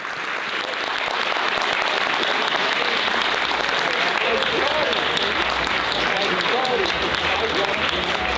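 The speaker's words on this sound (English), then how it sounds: "And if we could have one last round of applause," Loud, sustained applause from the audience closing Slavoj Žižek's Philomathean Annual Oration, a thick wash of clapping filling the whole stretch with faint crowd murmur beneath it.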